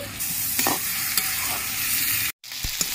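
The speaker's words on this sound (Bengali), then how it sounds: "মশলা ভালো করে কষানো হয়ে গেছে" Spices and vegetables, including pointed gourd and potato, being sautéed in a pan for a Bengali fish curry make a dense, steady sizzle with a few stirring scrapes and a brief cut near the end.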